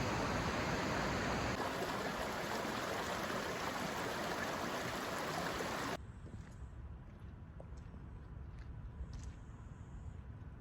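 Steady broadband rush of the Amicalola waterfall stream tumbling along a wooded Appalachian approach trail, loud and continuous, then dropping to a softer, more distant wash partway through.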